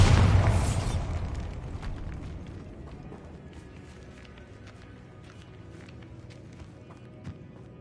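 A Bombarda spell in Hogwarts Legacy bursts with a loud, close explosive blast at the start that decays into a long rumbling tail, followed by scattered faint clicks and footsteps.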